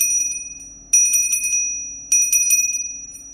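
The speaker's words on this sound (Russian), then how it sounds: "Ему как память 50 лет колокольчику." A small old restored bell with a stone and a samovar-handle piece attached rings in three clear shakes, each a bright burst of rapid clapper strikes with a ringing tone decaying between them, close and alone.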